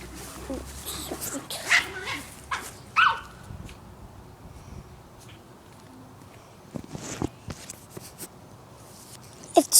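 Dogs bark and yip in scattered bursts while fighting, some barks close and sharp and others fainter, with whimpers and background noise between them.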